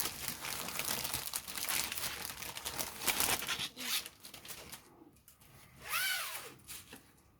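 Plastic bag holding parts of an Eduard 1/48 Tora Tora Tora limited edition model kit is handled up close, giving steady crinkling and rustling with a few sharper crackles and one brief zip-like swish near the end.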